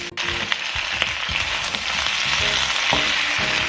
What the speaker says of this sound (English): Now begin to stir fry your vegetables.